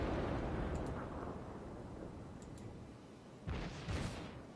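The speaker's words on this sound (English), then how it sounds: "Just as I fired the torpedoes, he gave me a big broadside." Heavy in-game broadside shells slamming into a warship in World of Warships, a long rumbling roar of impacts and explosions followed by two sharper bursts near the end, no talk.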